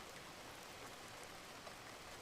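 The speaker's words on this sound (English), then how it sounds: "Is this rain JoJo's doing?" Rain falling in a JoJo's Bizarre Adventure Part 9 anime episode, a soft, steady wash of rainfall heard quietly and continuously without voices.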